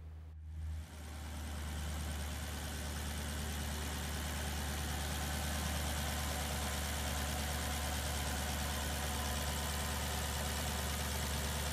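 A 2008 Maserati GranTurismo engine idles smoothly and continuously for around twelve seconds, with a deep, steady low rumble and exhaust purr heard up close after a brief dip at the start, with no voices.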